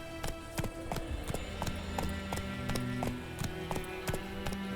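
Roach, a horse in the video game The Witcher 3, gallops with steady, rhythmic hoofbeat clip-clops over a continuous game soundtrack, loud and even in pace.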